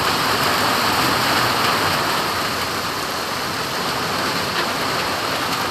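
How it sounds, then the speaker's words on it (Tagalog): Heavy rain pours down steadily outdoors, a dense, constant hiss of drops striking surfaces, loud and close with no letup and no voices. "Dumating yung malakas na ulan"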